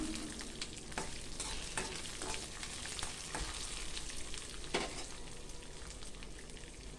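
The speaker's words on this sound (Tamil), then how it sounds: "ஒரு சட்டியில் எண்ணெய் விட்டு எண்ணெய் சூடானதும் கடலைப்பருப்பு, உளுத்தம்பருப்பு, வரமிளகாய், வெள்ளைப்பூடு, சீரகம், மிளகு, உப்பு எல்லாத்தையும் போட்டு வறுத்துக்கலாம்" Chana dal, urad dal, dried red chillies, garlic, cumin, pepper and salt fry in hot oil in a pan for curry leaf thokku, a steady close crackling sizzle with occasional sharper pops and stirring scrapes, no voices.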